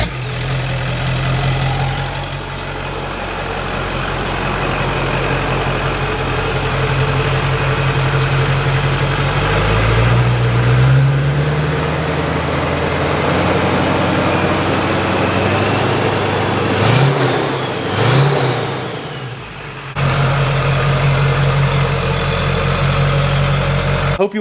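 A junkyard Duramax diesel truck engine runs close and loud, settling into a steady idle with a couple of short revs partway through, with no voices over it.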